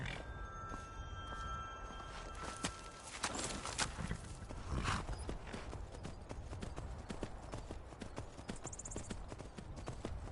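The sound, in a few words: horse hooves in Skyrim video game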